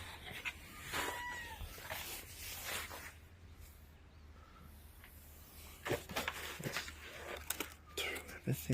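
A cat gives soft, faint meows and purring rustles near the start, then scuffing and handling noises continue close by under a low background hum.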